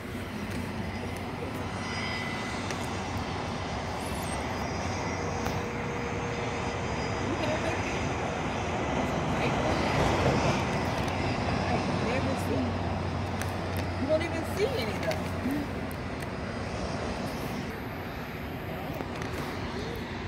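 An Atlas Air Boeing 747-400F cargo jet roars in a broad, steady engine rumble that swells toward the middle and slowly eases, heard from a distance with people talking over it at times.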